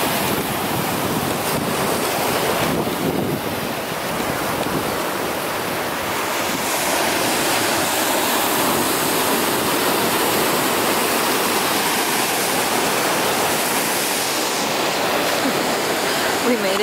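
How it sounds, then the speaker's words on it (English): Ocean surf breaks and washes against rocks at a beach as the tide comes in, a loud, continuous roar of crashing water with heavy wind noise on the microphone throughout. "We made it to the ocean,"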